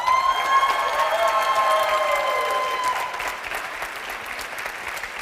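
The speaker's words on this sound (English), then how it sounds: "Please, one more applause for Tassos." Lecture audience applauding a biologist speaker after a talk on genomes and biological shape, steady broad clapping under a tonal electronic whine that fades, the applause thinning toward the end.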